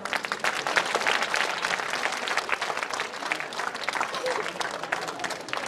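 An audience at a Jawahar Navodaya Vidyalaya alumni meet in Laduna, Mandsaur claps in a dense, sustained round of applause filling the hall, loud and continuous throughout.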